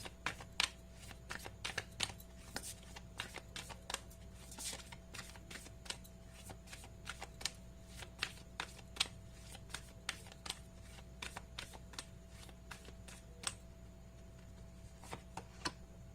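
A Sacred Indian Tarot deck being shuffled, with a long run of quick, crisp card riffles and taps, soft and close in an otherwise quiet room.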